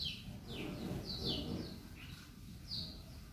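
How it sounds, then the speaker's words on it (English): Small birds chirp and tweet in short, bright calls scattered across a few seconds at a horse farm while they build a nest, fairly close over a steady low outdoor rumble, with no talking. "The birds are busy making a nest."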